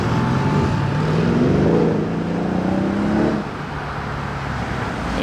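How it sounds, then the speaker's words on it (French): A Mercedes CLS 63 AMG accelerates up a highway on-ramp, its engine note rising in a steady, fairly close surge for a few seconds before easing off into a lower, even drone. "On va voir si la CLS 63 MG fait une petite accel sur l'entrée d'autoroute"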